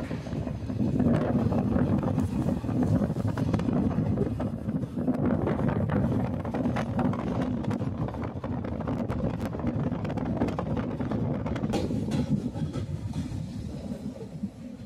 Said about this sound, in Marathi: अशा प्रकारे ही गाडी आपली धाराशिव येथून लातूरकडे आता निघत आहे